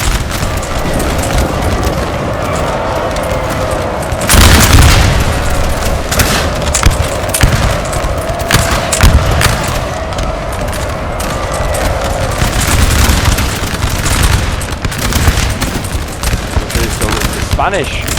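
Musket volleys and cannon booms from a Napoleon Total War 3 battle between French and Spanish armies in 1809 roll on continuously, dense crackling fusillades with heavier thumps, loud throughout.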